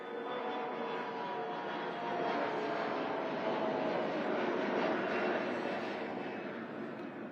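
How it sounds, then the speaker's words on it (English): An airplane climbs away overhead after takeoff above Old Town Alexandria in Northern Virginia, a broad distant engine roar that swells gradually, peaks around the middle and then eases slightly, with no talking. "I'm so glad the planes are taking off this direction."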